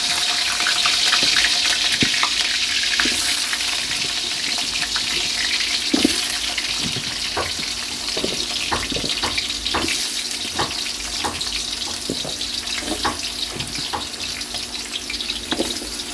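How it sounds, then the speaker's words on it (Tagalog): Sweet potato and carrot pieces fry in hot oil for beef mechado, giving a steady, dense sizzle close up with scattered pops and crackles throughout. "Kaili, mainit na yung mantika natin. Lagay na natin yung kamote at yung carrots."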